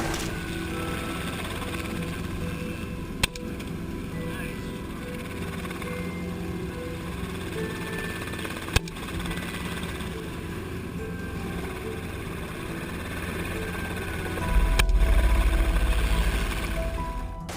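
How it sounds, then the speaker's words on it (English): Helicopter engine roaring during an aerial wild boar hunt in America, a steady droning whir that holds throughout, with a few sharp clicks and a louder low surge near the end. "the sound of the helicopter engine roars"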